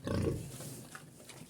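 Low, rough grunting from a pig with a sore hind leg, loudest at the start and then fading into quieter snuffling and shuffling.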